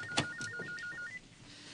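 Telephone ringing, a quick electronic warbling tone alternating rapidly for about a second after a sharp click, close and clear with no talk.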